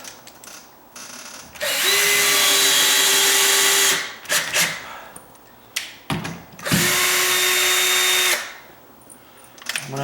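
Two long, steady bursts of a power drill driving longer screws into a sagging door's hinge, each whining for a couple of seconds at close range, separated by brief handling clatter.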